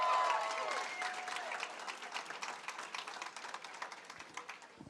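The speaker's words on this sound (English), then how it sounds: "I want you to give a round of applause to Ed Perlmutter" Crowd clapping at a Colorado midterm election victory speech, starting with a brief cheer and then settling into scattered, moderately distant applause that gradually thins out.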